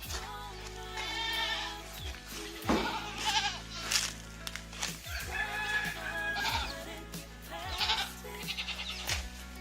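Goats on a farm bleat repeatedly, several overlapping calls near and loud, with chickens and a crowing rooster mixed in the background.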